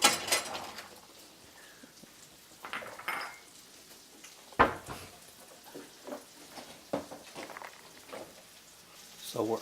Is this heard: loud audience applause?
no